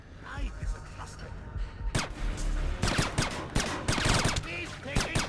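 Gunfire from the 2005 stealth game Splinter Cell: Chaos Theory, a rapid run of sharp, loud shots in bursts over dense background noise, with some voice mixed in.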